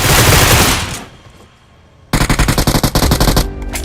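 A loud burst of noise fades to near quiet, then rapid automatic M4 rifle fire in the video game BGMI rattles off in a fast, sustained string of shots.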